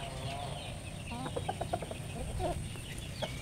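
Native crossbred heritage chickens in a backyard farm flock cluck in a quick run of short calls over steady outdoor background noise, with a few louder clucks toward the end.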